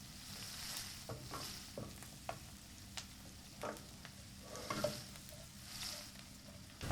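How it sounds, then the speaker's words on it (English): Onions, shallots and garlic frying and caramelizing in a pan, a quiet steady sizzle broken by intermittent stirring scrapes and small taps of a utensil. "Just want to do is just get a nice light caramelization on the onions or"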